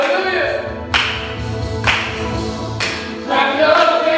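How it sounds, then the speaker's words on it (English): A church congregation clapping hands to worship music, sharp rhythmic claps at roughly one-second intervals over singing and instruments. "We're going to clap our hands."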